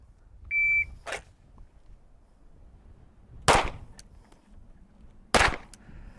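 Pistol shots fired during tactical cowboy firearms training, three sharp loud cracks spaced a couple of seconds apart outdoors, preceded by a brief electronic beep from a shot timer.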